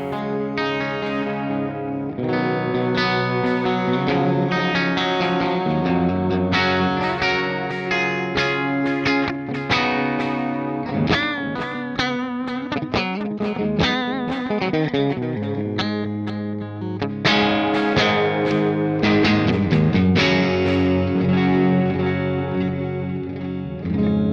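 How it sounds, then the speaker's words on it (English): A clean electric guitar, a Maybach Lester, plays chords and single notes with echoing delay repeats and a wash of reverb from an Apollo interface, steady and fairly loud with no voices. "I've got some delay and reverb going on post from the Apollo interface"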